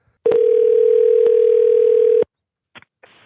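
A telephone dial tone sounds while a phone number is being called, one loud steady tone lasting about two seconds, followed by a couple of brief faint clicks.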